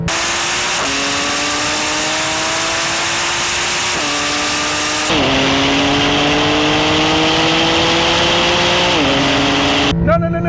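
A Porsche 911 Turbo S and a GT2 RS accelerate hard in a race, loud engines climbing in pitch and dropping at each gear shift, several shifts in a row.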